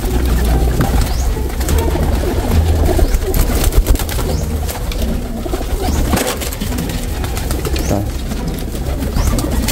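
Racing pigeons, rare-coloured breeders, coo repeatedly in low, throaty, rhythmic calls close by, with rustling and a brief spoken word among them.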